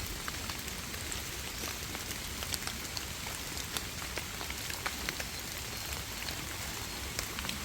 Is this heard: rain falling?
yes